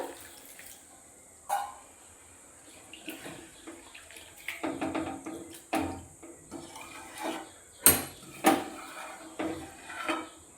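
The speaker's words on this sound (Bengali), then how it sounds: "তো এরপর জল ঢেলে ভালো করে সব কিছু সেদ্ধ করে নিতে হবে।" Water poured into a pan of vegetarian jackfruit curry, a faint pouring wash broken by clinks and scrapes of a spoon against the pot, close and intermittent.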